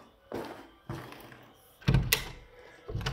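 Thumps of a freshly cut door being fitted and shut in an old stone cottage under renovation, a few muffled knocks spaced apart, then a sharper bang near the end; close and fairly loud, with no talk.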